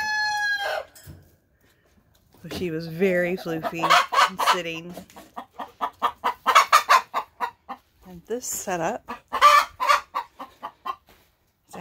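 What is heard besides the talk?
hens clucking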